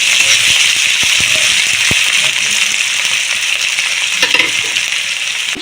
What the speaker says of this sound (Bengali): ওই তেলের মধ্যে আমি দিয়ে দেব কোচানো পেঁয়াজ।